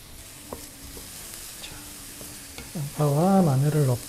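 Onion and garlic stir-fried in a pan, with a soft, steady sizzle and light stirring scrapes, and a louder wavering tonal hum rising over it near the end.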